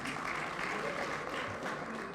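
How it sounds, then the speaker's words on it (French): An audience applauds in a steady, dense wash of clapping throughout, loud and continuous with no pause. "Est-ce qu'on peut applaudir pour lui"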